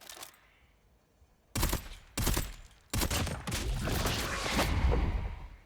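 Gunfire from a DP 27 in a video game, followed by an elimination effect: after a quiet start come two short loud bursts, then a long sustained roar of shots and effects close up, with no talking.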